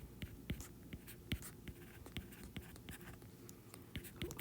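Pen writing notes by hand on paper, a steady run of short scratchy strokes and taps, close and clear, with no talking.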